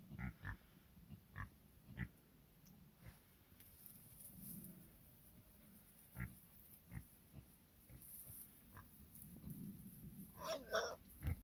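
Pigs grunt and snort in short, irregular bursts close by, with occasional squeals and snuffling against a quiet outdoor background.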